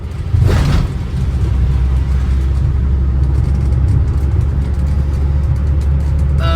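An Austin Allegro drives along a wet winter road, its engine and tyres making a loud, steady low rumble inside the cabin, with a brief whoosh near the start.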